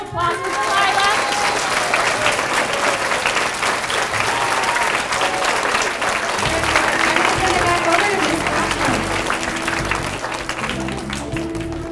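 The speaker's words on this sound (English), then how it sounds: "Big round of applause for Delilah." A school ceremony crowd claps loudly and steadily for a student receiving an award, dense sustained applause lasting the full stretch, with a few voices and cheers mixed in before it starts to fade slightly.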